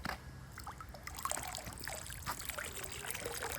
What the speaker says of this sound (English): pour it a little bit in here